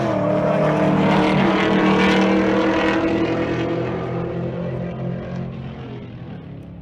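A 2020 Camaro on a drag strip roars past at full throttle, a loud engine howl that peaks early and then fades steadily into the distance, with no talk over it.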